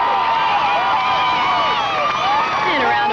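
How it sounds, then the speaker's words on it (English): A crowd at the 2003 NCAA gymnastics championships cheers and applauds in a steady, dense roar of voices and clapping that fills the whole stretch. "a round of applause from Dad Charlie."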